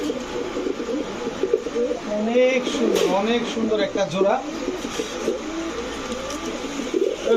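Big-sized Mushaldom pigeons with pearl eyes, a male and female pair, coo softly in repeated throaty calls while someone talks in Bengali over them.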